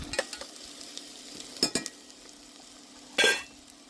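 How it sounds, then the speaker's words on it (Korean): Sliced garlic and onion sauté in olive oil in a hot pot, a soft sizzle broken by a few sharp utensil scrapes and clinks and one louder stirring burst near the end; no talk. "뜨겁게 달군 냄비에 올리브유를 둘러줍니다. 그리고 아까 채 썰어둔 마늘과 양파를 넣습니다. 색이 나지 않도록 잘 볶아줍니다."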